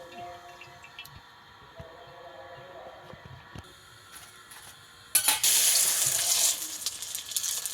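Thin rice-flour papad frying and puffing in hot oil: faint clinks and small crackles at first, then a loud, bright burst of bubbling sizzle that swells and continues near at hand.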